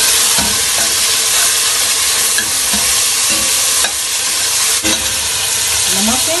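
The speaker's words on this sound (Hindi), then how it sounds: "टमाटर ऐड करूंगी।" Tomatoes sizzling and frying in a pan for khichdi, a steady loud hiss with occasional scraping stirs and clinks, no talk over it.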